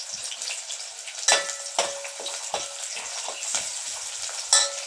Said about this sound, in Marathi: ते थोडेसे जर नमक टाकून भाजले ना तर खूप छान लागतात हरभरे.